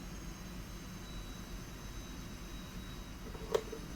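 Steady, faint jet engine roar from a flight combat game aircraft as it is throttled back, a broad, even drone that holds throughout with one brief sharp click near the end.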